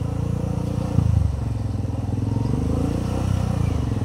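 A motorcycle engine chugs steadily close by, its low rhythmic putter rising briefly with a small throttle blip before settling back.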